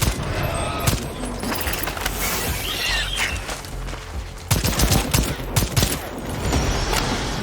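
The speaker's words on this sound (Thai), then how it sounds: "ลองใช้ปืนกลบ้างครับ" Rapid automatic gunfire from a machine gun in the video game Second Extinction, loud and dense bursts crackling steadily throughout, with heavier volleys near the end.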